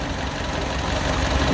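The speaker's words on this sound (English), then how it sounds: "Look how quiet that engine is." A Fiat 500 engine idles quietly and evenly, a steady low hum with faint mechanical ticking and vibration heard close by, with no voices.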